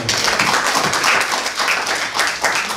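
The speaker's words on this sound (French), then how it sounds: "on applaudit" Audience applause at a French business meetup event, steady dense clapping from a crowd filling the whole stretch at fairly close range.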